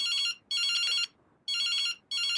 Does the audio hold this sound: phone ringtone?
yes